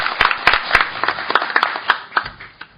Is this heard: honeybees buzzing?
no